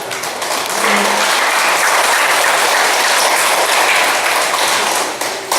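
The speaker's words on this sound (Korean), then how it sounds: "다시 한번 박수를 하겠습니다" Audience applause at a Korean talk about advance funeral planning and medical directives: dense, steady clapping from a crowd, loud and continuous throughout before tapering slightly at the end.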